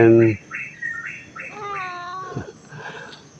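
A cat kept indoors before neutering meows several times in a row, drawn-out close calls of varying pitch, the last ones fainter and rougher, with a brief thump at the start.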